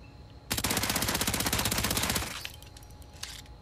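Rapid automatic gunfire in the VR shooter Hitman 3 on PSVR, a dense burst of fast repeated shots lasting under two seconds, followed by a few faint clicks and mechanical sounds.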